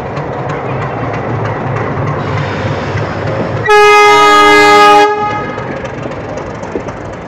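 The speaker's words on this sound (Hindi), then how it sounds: "और ये है कोरोमंडल एक्सप्रेस। ये 7 बजे यहाँ से खुलेगी। इसका जस्ट अभी शंटिंग हुआ है।" Station ambience around the Coromandel Express just after shunting, with a continuous rumbling hum broken by a loud, sustained train horn blast lasting over a second, then a return to the steady background with a voice faintly present.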